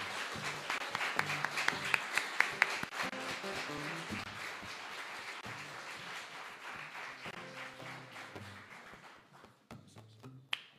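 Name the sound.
congregation applause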